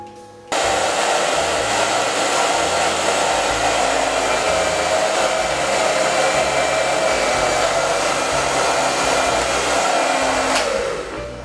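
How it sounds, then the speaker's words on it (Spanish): A handheld hair dryer roars steadily and loudly for about ten seconds while drying hair set in small buns for heat-free surfer waves, then clicks off near the end, with no speech. "avanzamos con el secador y vamos a hacer ahora que se sequen rápidamente nuestros moñitos"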